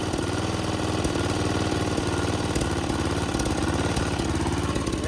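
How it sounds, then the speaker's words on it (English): A Snapper lawn mower engine idles close by, a loud, steady, slightly uneven chugging with a rapid knocking pulse and no talk. "I'm trying to get it to idle a little better."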